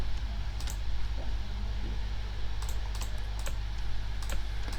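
Rapid mouse or keyboard clicking from a player in a tense Five Nights at Freddy's fangame (POPGOES), scattered sharp clicks in short bursts over a steady low hum, close and moderately quiet, with no talking.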